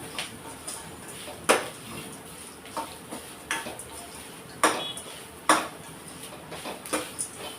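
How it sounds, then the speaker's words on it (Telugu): Grated coconut with peanuts is stirred in a pan with a metal spatula, making sharp scraping clinks every second or so over a faint background. "మొత్తం కొబ్బరి వేసుకొని కలబెట్టుకోండి లైట్గా ఒక రెండు నిమిషాలు అలా ఫ్రై చేసుకుందాం"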